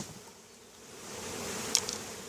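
Honey bees in an opened hive keep up a continuous buzz that swells louder partway through, with a brief nearby wingbeat whine, close and unaccompanied by speech.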